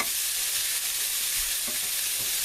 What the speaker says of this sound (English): we've got our sausage and orange pepper frying in a small frying pan